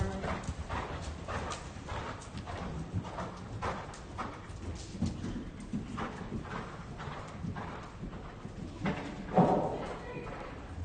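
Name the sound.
horse cantering in riding arena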